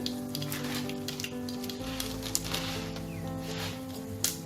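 Two dried red chillies and mustard seeds sizzle in a tablespoon of hot mustard oil, a steady crackling fry with small pops, close and continuous, while background music plays.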